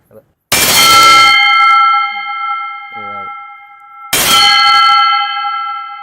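Bronze brahma thalam temple cymbals struck twice, each a loud bright clang with a long shimmering bell-like ring that slowly decays. A brief voice is heard between the strikes.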